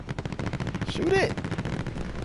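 Automatic gunfire in the video game Warzone rattles in a fast, even burst over a couple of seconds, moderately loud and mixed with a man's speech.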